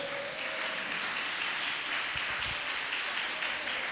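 A church congregation applauds during a Sunday morning service, a continuous wash of clapping heard from a distance, with a few low thumps and faint tonal ringing in the background.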